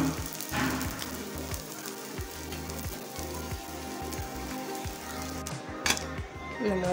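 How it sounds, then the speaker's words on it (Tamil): Sweet bread toast frying in ghee in a pan, a steady crackling sizzle with occasional clinks of a utensil against the pan and low background music. "இந்த மாதிரி போட்டு கொஞ்சம் லைட்டாக நெய் சுற்றி விட்டுக்கலாம்."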